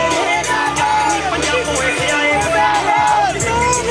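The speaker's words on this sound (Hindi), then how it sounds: "युवा किसान जो है वो लगातार मुर्दाबाद के नारे के उद्घोष के साथ" Young farmers march at a tractor protest in Sirsa, a dense, loud crowd shouting and chanting slogans together, voices overlapping in a continuous roar of yells.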